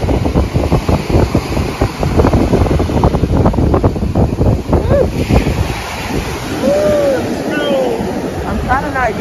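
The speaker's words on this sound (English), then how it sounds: "the waves are huge and they're keeping coming up here." Ocean surf rolls in at a beach, waves breaking and washing up the shore under strong wind buffeting the microphone, while a nearby person talks over the rushing water.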